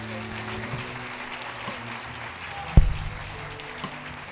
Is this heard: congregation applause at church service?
yes